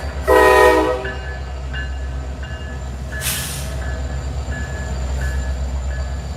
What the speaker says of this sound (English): They're blowing his horn